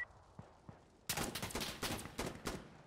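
Gunfire in Insurgency: Sandstorm: a couple of faint distant shots, then a sudden sustained burst of loud, close rapid fire with sharp repeated cracks for the remaining couple of seconds.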